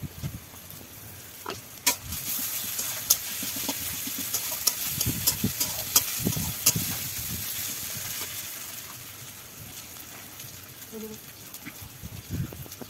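Onions, ginger and garlic fry in oil for a Bengali fish curry, a steady hiss and sizzle broken by crackles and stirring scrapes, close and moderately loud.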